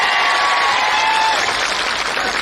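A crowd at a protest rally in Beed claps together, a broad, continuous wash of applause with a faint tonal hum running underneath, sustained and fairly loud.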